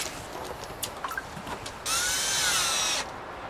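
A power drill drives long screws into a homemade wooden power rack: a steady, close whirring burst of about a second, preceded by a few lighter clicks and taps.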